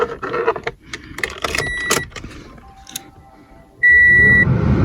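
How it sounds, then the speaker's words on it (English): Keys jangle and clatter close by in a Toyota before a sharp electronic chime sounds and the ignition comes on, followed by a steady, louder hum of the car's systems running. "So obviously first turn on the ignition."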